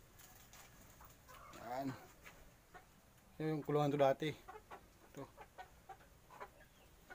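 Chickens cluck in short bursts beside a coop on a poultry farm, with a louder cluster midway, as someone talks quietly nearby.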